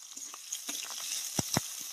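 Cumin, black cumin, a halved bay leaf, chopped onion and green chili fry in hot oil with a steady close sizzle, broken by a few soft stirring clicks and two sharper spits near the end.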